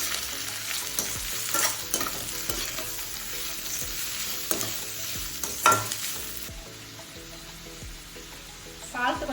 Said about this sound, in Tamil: எல்லாத்தையும் சேர்த்து மிக்ஸ் பண்ணி விட்டுருவோம்.